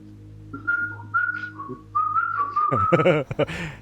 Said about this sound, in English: He's back to his old whistling self.